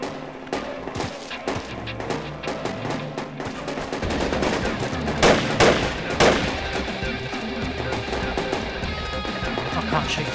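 Rapid gunfire from the tactical shooter Project Reality in the Korengal Valley, with sustained bursts of shots and a few louder close reports, mixed with background battle noise and voices talking over it.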